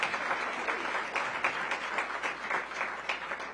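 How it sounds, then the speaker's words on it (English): Audience applause at a DC Public Schools strategic plan launch event, a steady dense round of clapping from a large crowd, moderately loud and continuous with no speech. "Please give the Chancellor a big round of applause."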